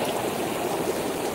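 Water poured over someone bathing, a steady close splashing and trickling stream that runs without a break and with no talk.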